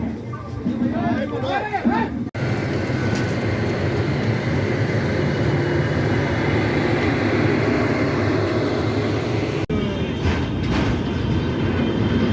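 The Howrah Jodhpur Express pulls out of Pandit Deen Dayal Upadhyaya Junction with a loud, continuous rolling rumble and rhythmic wheel clatter, heard close from aboard with a brief drop partway through.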